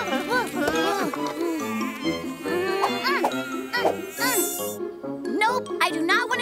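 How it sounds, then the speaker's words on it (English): Mosquitoes buzz in a cartoon forest at night, a thin high whine running under a busy bed of music and cartoon effects with brief voices. "There's lots of mosquitoes around,"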